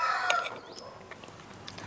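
Chickens cluck and fuss while being fed outdoors, a few short close calls at the start then softer scattered clucks and faint background noise.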